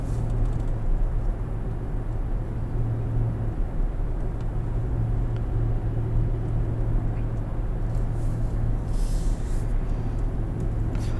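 A 2023 Infiniti QX80 with a 5.6-liter V8 accelerating at full throttle, a loud sustained low engine drone heard from inside the cabin.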